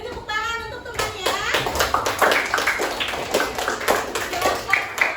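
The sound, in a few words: classroom applause for a group of classmates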